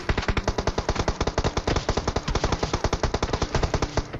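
A hacker fires rapid automatic gunfire at the player near Pochinki in the video game PUBG, a dense unbroken stream of sharp bursts that stays loud and close for the whole stretch.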